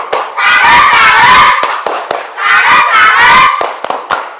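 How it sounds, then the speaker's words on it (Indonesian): Students in a classroom clap in two rhythmic bursts of patterned applause, with loud sharp claps and thumps, brief shouts from the group, and pauses between the bursts. "Beri tepuk salut"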